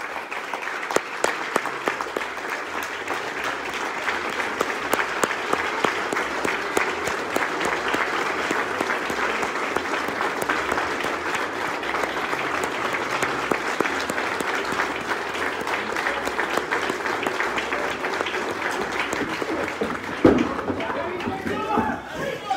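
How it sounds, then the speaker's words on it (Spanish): Sustained audience applause at a wrestling show at a coliseum in Coacalco, a dense steady clapping from a large crowd with occasional shouts, lasting the whole stretch before fading near the end. "les pido de corazón menos de un minuto de aplauso para Golden."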